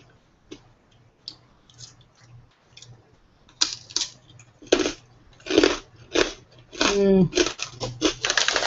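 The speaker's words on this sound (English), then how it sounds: "My chewing is probably pretty loud." Loud, close crunching bites and chewing grow more intense over several seconds, with a low steady hum underneath.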